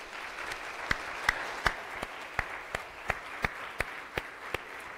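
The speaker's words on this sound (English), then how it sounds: "Would y'all give these folks a round of applause?" Sparse, scattered clapping from a small congregation at a weekly university chapel service, with a few distinct loud claps standing out over a soft wash of hands, steady for several seconds.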